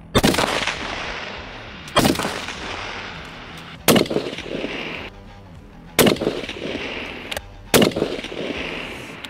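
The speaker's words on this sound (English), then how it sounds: "So we just shot the corroded ones that we salted here, and they went right exactly where I expected them to go into the group." Five loud, sharp rifle shots fired at a 500-yard target with corroded ammunition, spaced roughly two seconds apart, each one cracking and then echoing briefly outdoors.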